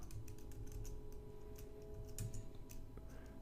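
A short command is tapped out on a computer keyboard in a Linux terminal, a quick run of light, crisp keystrokes close up with a few heavier presses and nobody speaking.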